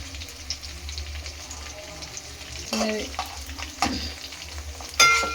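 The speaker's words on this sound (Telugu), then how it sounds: "కొంచెం ఇలా ఫ్రై చేసుకోవాలి" Green chillies, dried red chillies, curry leaves, mint and coriander sizzle steadily in a hot pan for chicken pulao, with a few louder stirring scrapes and crackles breaking through near the end.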